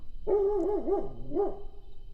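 A dog gives a wavering, howling bark followed by a second shorter yowl, close and fairly loud against a quiet background.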